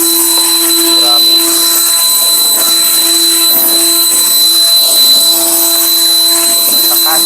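Soarfly 1588vf cordless jet dust blower running at full power, a loud, steady high-pitched whine with rushing air held for several seconds, close up, with a voice talking faintly underneath.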